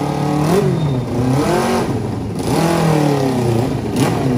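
A big-bike motorcycle engine, its condition disputed over claims that some cylinders were not firing, revs up repeatedly in loud, close throttle blips that rise and fall in pitch with a steady idle between, no talk over it.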